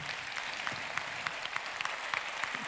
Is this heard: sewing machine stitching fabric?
no